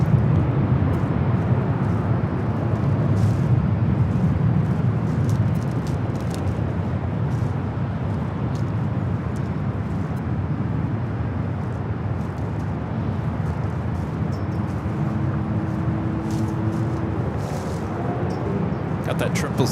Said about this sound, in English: UPS 903 taking off to Louisville on a 767-300 freighter.